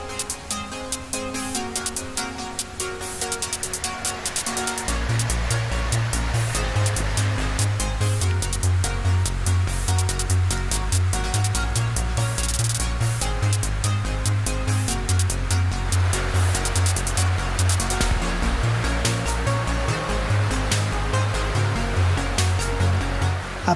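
Slovenia's highest waterfall, a 52-metre drop, roars as a steady broadband rush of falling water heard from near its base, continuous and loud throughout, with music playing over it.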